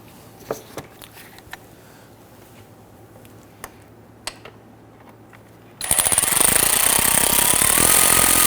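Working from underneath a 2011-2015 Kia Sorento, a power tool drives starter bracket bolts into the lower manifold. A few light taps come first, then a sudden loud, continuous mechanical whirr takes over and keeps going right up close.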